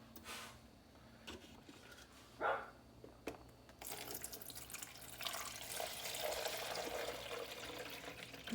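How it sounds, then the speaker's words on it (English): Water is poured into the reservoir of an Aiosa 4-12 cup programmable drip coffee maker. A few faint knocks and clicks come first, then a soft, steady trickle and splash runs close by in a quiet kitchen. "Very easy to put the water on and no spills, which is excellent."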